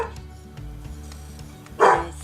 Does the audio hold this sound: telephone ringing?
no